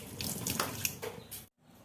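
A tap runs into a sink as katla fish is washed, a close hissing gush with splashes and shifting flow, cutting off abruptly near the end before faint room noise returns.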